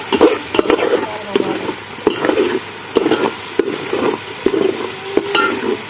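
Chicken pieces sizzle and fry in a pan with spiced masala and tomato while a spoon scrapes and stirs in steady repeated strokes, close and fairly loud, with no talking.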